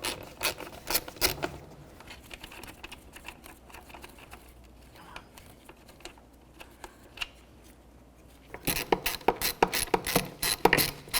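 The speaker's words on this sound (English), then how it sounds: "Let's start unbolting the fuel rail from the intake." Ratchet wrench loosening fuel rail bolts on the intake of a 1999-2007 Chevy Silverado, quick rattling clicks in bursts, busy at the start, sparse in the middle, then dense again near the end.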